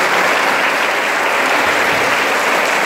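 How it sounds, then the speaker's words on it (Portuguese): A church congregation at a Catholic Mass in a parish in Guararema, São Paulo, claps steadily and loudly, a dense continuous wash of applause with no talking over it. "Quero uma salva de palmas"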